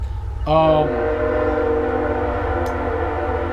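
A train passes close by and sounds its horn in one loud, sustained blast, followed by a lingering droning rumble, with no talk.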